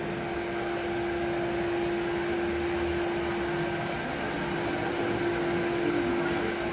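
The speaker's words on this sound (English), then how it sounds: "So you've got a shaping and a finishing tool with the mini grinder" A mini grinder fitted with a half-inch turbo cutter, used for wood carving, runs as a steady close whirring drone with a constant pitched hum and no pauses or talk.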